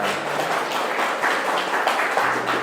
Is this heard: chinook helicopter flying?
no